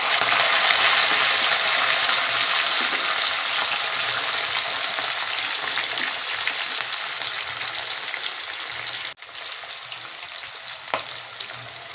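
Cumin, curry leaves, green chillies and onions sizzle loudly in hot oil for a country chicken curry, a dense continuous crackle that briefly drops out and then resumes with occasional stirring.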